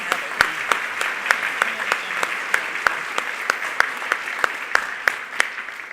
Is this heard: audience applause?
yes